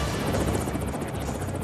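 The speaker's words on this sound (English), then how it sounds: "is mounted to a helicopter and taken for a test drive at California's Edwards Air Force Base." A helicopter carrying a test radar flies at Edwards Air Force Base in California, a loud continuous rotor thump and engine roar with rapid rhythmic blade chopping, close and steady throughout.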